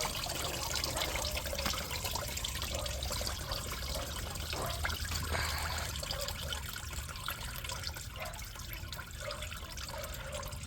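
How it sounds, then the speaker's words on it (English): Antifreeze coolant pours steadily from the thermostat housing of a 2013 Ford Fusion 2.5, a continuous splashing trickle that stays fairly even and close throughout with no talk. "You're gonna lose a lot of coolant."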